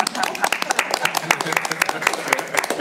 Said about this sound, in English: I have to ask for applause